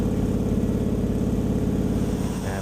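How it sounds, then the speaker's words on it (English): A 1969 Pontiac Firebird with a Ram Air 4 V8 cam, Holley carburetor and MagnaFlow dual exhaust idles loudly and steadily nearby, its lumpy, uneven pulsing rhythm filling the whole stretch without any talking. "that Ram Air 4 cam does have a lumpy idle, but coming out of that MagnaFlow dual exhaust system, it sounded really, really sweet"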